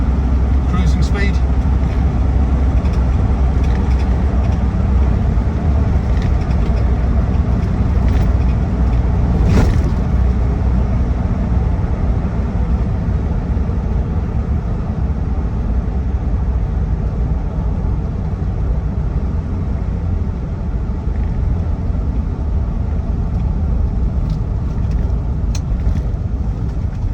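Land Rover Defender 90 TDCi XS station wagon automatic cruising at just under 2,000 RPM, a steady loud low engine and road drone filling the cabin throughout, with a brief louder knock near the middle.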